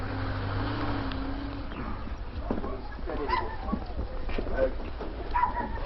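Dogs inside a van bark, yip and whimper in scattered short outbursts over a low vehicle rumble, fairly close, with some voice-like sounds mixed in.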